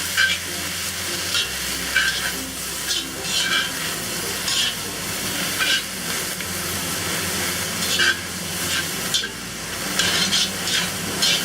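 Dandelion greens stir-frying in a hot wok with sesame oil and Shaoxing wine, a steady loud sizzle with repeated scraping tosses of a spatula throughout.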